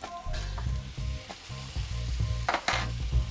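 Half a stick of butter sizzling in a pan with burbot juices and garlic, loud crackling fry with repeated stirring scrapes and a couple of sharp spattering bursts near the end.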